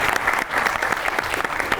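Studio audience at a Pakistani TV comedy variety show breaks into sustained applause, a dense crackle of many hands clapping close and steady throughout, with no talk over it.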